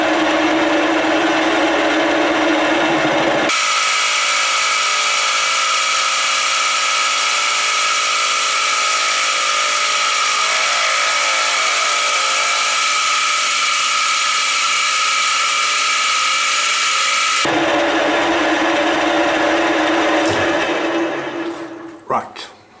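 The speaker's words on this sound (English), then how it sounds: "I'm gonna quickly skim this surface a little bit, just make it flat before drilling holes." A Deckel milling machine in horizontal mode skims a metal surface flat, giving a loud, steady high-pitched cutting whine over a running motor. It holds evenly for most of the span, then the cut ends and the machine winds down.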